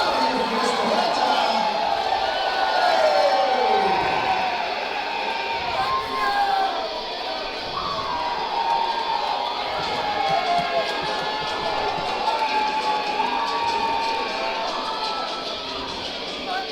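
Crowd cheering and whooping at an MMA cage event as a fighter walks out: a steady, dense roar of voices with shouts rising above it, lasting throughout, with arena music or announcer sound mixed underneath.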